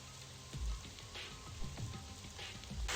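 Rain sound effect from the video game Super Danganronpa Another 2: a steady, dense hiss of rain pattering on a surface with scattered louder drops, filling the whole passage without talk.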